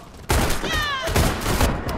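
Close-range gunfire in a video game erupts suddenly into a loud, dense burst of rapid shots that continues to the end, near and harsh, with no talk.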